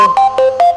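A telephone ringtone plays loud and alone, a repeating electronic melody of short bright tones in quick succession.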